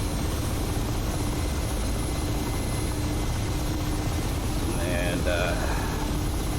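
A Mi-8 helicopter in DCS drones on with a constant, heavy rotor and turbine roar, while someone speaks briefly over it.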